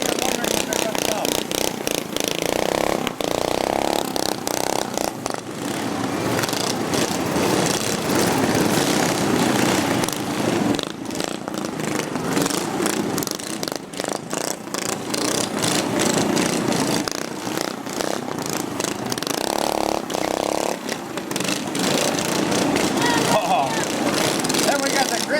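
Engines of Shriner Motor Corps vehicles rumble steadily through a Christmas parade, a continuous mid-distance drone of motors with people talking over it throughout.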